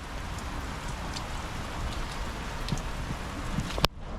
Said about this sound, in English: it's kind of just pouring rain right now